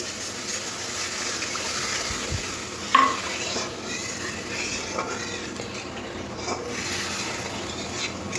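Water is poured into a pan of fried spice paste for a Bengali bhola fish curry, bringing a steady broad sizzle with stirring and scraping, one sharp splash near the middle, and no talking.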